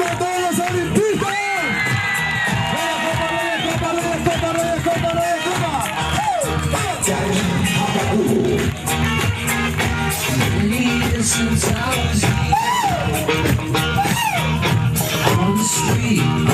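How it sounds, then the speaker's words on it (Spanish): Fans at a live concert in Coronel Oviedo cheer and shout for Olimpia supporters, a loud, sustained crowd roar with whoops and rhythmic bursts that carries on through the whole stretch alongside music. "¡Y las palmas de todos los olimpistas!"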